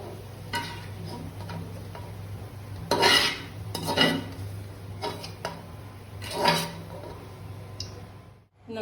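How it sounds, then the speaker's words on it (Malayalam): A metal spoon scoops fried onions out of hot oil and drops them onto puffed rice for a Kerala-style puffed-rice mixture. Scattered scrapes and clinks come in a few louder bursts over a steady low kitchen hum. "കോരി ഈ മലരിൻ്റെ അകത്തോട്ട് തന്നെ അങ്ങ് ഇട്ടാൽ മതി"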